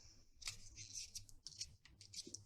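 Scissors cut folded fabric scraps with a quick series of faint, crisp snips close to the microphone.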